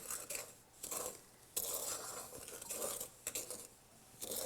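Flour for a pie crust is stirred in a bowl with a utensil, producing intermittent scraping and light clinking strokes at a close, moderate level, with brief pauses between bursts and no talking.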